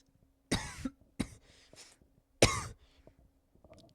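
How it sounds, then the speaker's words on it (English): A person coughs three times, harsh and close, with a pause between the second and third, followed by faint breathing in a quiet room. "Sorry, I have a cough."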